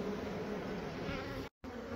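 Honey bees buzzing during removal of a hive from a house balcony: a dense, steady swarm drone that fills the whole clip, close and even, broken only by a brief dropout near the end, with no voices.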